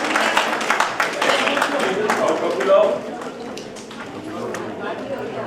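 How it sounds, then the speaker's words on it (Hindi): Audience applause for an award presentation at a women's event, a steady wash of clapping over crowd chatter and voices, fairly loud and close, easing slightly toward the end. "लिए जोरदार तालियां बजाते हैं आप।"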